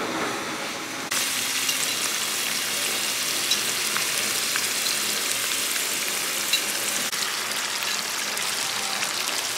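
Green chili paste and spices frying in a pan outdoors, sizzling loudly and steadily after a sharp onset, with a dense crackling hiss and no talking.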